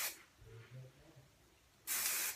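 Hairspray from an aerosol can misted onto styled hair for a 1940s victory roll, a short hissing burst at the start and a longer loud spray near the end, with quiet faint sounds between.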